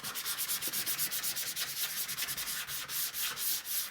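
Fine-grit sandpaper rubbed briskly across a glossy craft tag, with rapid, steady rasping strokes repeating close up and without any voice.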